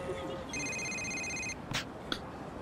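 A dead man's mobile phone rings in Yakuza Kiwami with a steady electronic ringtone of bright, sustained tones for about a second, followed by a couple of short clicks and rustles.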